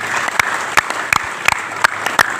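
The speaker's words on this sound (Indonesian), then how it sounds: "Tepuk tangan untuk Abah." A group at a religious sermon gathering claps in unison, producing six sharp, evenly spaced claps in a quick, steady rhythm over a soft background murmur.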